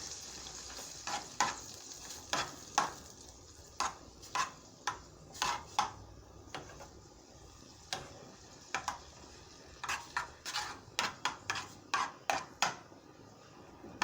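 Butter sizzles and melts in a hot pot while making Haitian salade russe, with a steady quiet frying hiss and repeated sharp ticks of utensils against the pot, no talk.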